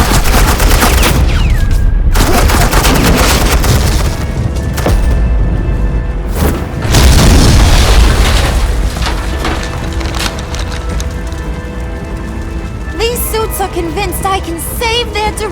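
Sustained suppressing gunfire in a Batman Telltale action scene, loud rapid automatic bursts and crackling volleys pouring out for many seconds, with booming impacts and splintering debris, tapering into lighter shots and clatter near the end.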